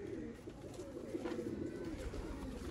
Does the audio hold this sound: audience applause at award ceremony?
no